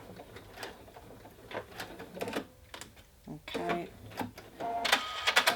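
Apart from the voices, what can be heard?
sewing machine reverse stitching a placket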